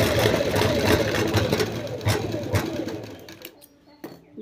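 A sewing machine runs a fast, steady mechanical whirr while stitching a double seam on a round-collar frock, then stops abruptly, leaving a few faint clicks.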